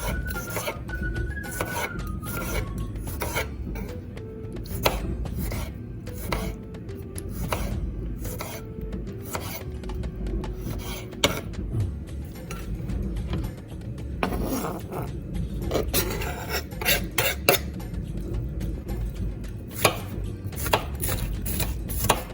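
A knife chops tomatoes into small pieces on a board in rapid, uneven bursts of sharp, close taps, with brief pauses between runs and faint voice sounds in places.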